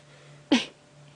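A lioness on a safari drive lets out a single short, explosive sneeze against a quiet background hum, close and sudden.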